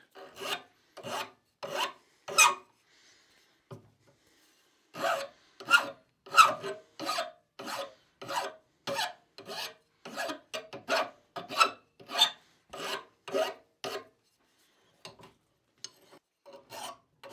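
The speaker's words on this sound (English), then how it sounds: "I'm also beveling the top edge of these hooks." A file rasps along the edges of small wooden weaving hooks, beveling and rounding them in repeated quick strokes, in bursts with short pauses, close and clear, with no talk.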